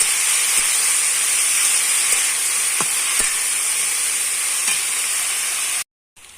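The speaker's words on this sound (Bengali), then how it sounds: "এবার আমি মোচাটা দিয়ে দেব মোচাটা দিয়ে দিয়েছি" Chopped banana flower sizzles in a hot pan of spiced, sautéed onion and chili, a steady loud hiss with a few faint stirring clicks before cutting to silence at the end.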